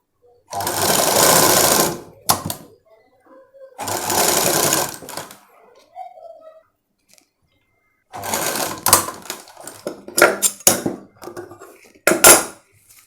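Sewing machine stitching designer sleeves in short close bursts of rapid whirring, separated by pauses filled with small handling clicks and rattles.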